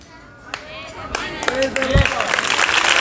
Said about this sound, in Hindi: जितनी जोर से ताली बजा सको या जितनी जोर से चिल्ला सको